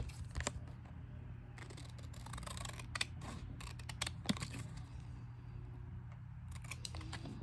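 Scissors snip repeatedly through paper while a small laminated notebook is made as a craft project, with crisp close cuts in irregular bursts and short pauses between them.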